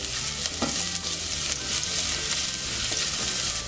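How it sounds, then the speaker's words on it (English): Chopped garlic sautéing in hot olive oil in a pan, a loud, continuous close sizzle with occasional stirring scrapes, no talking. "Now when the oil is hot, I'm going to add the chopped garlic and we'll saute it for a couple of minutes."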